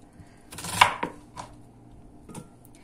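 A knife chops vegetables or herbs on a cutting board in a quiet kitchen. A few sparse, sharp knocks land irregularly, separated by near silence.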